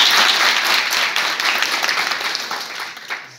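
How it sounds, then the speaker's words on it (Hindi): An indoor audience at a law students' court visit gives a round of loud, close applause. Dense, steady clapping carries through the moment and tapers only slightly near the end. "एक बार पुनः सर के लिए जोरदार तालियां।"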